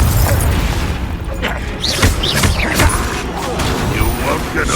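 A Confringo fire spell bursts in a Hogwarts Legacy duel, a series of booming blasts and crackling impacts under continuous combat noise, with a voice speaking over the action.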